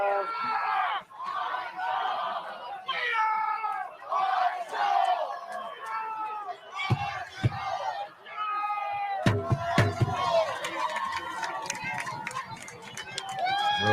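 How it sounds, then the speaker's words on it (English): A record crowd at a college men's soccer match between Marshall and West Virginia at Hoops Family Field, loud shouting and cheering rising and falling in surges and bursts, with a commentator talking over it. "what figures to be a record crowd here at Hoops Family Field"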